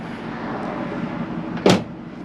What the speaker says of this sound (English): Closing the tailgate is very easy.